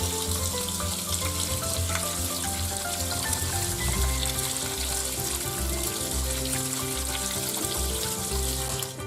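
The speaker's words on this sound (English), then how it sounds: "So I'm going to give this a really good rinsing under the cold water tap" Cold tap water streams over rice being rinsed in a kitchen, making a continuous splashing wash that runs at an even level throughout.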